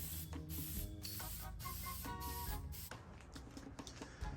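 A spray can hisses in repeated short bursts, close up, while a final coat goes onto the degreased radiator frame of a GMC motorhome.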